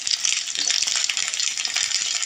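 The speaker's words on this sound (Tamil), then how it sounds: "எல்லா பக்கமுமே அந்த மாதிரி ப்ரௌன் கலராக வர மாதிரி நல்லா கத்திரிக்காயை வதக்கிக்கோங்க" Brinjal (eggplant) pieces fry in hot oil with a continuous bright hiss and crackle, close and fairly loud, with faint stirring underneath.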